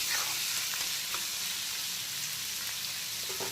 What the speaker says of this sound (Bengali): পেঁয়াজের যে নিজস্ব একটা কাঁচা গন্ধ থাকে সেটা চলে যাওয়া পর্যন্ত প্রথমে পেঁয়াজটাকে ভেজে নেব।